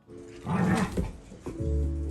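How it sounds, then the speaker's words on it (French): A small dog plays with a treat-filled Snoop ball, giving close bursts of low growling and snuffling that roll and pause, then rise again. "comment on voit un chien qui s'amuse avec cette balle Snoop-là"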